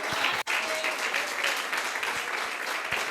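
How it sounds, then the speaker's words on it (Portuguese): A church congregation applauds steadily at a women's ministry festival service, dense continuous clapping filling the room with a brief dip near the start. "Aplaude o nome dele, porque ele é digno de glória."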